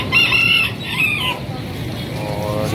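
Chickens at an outdoor bird market clucking and calling close by in two short bursts over a steady background murmur of the market.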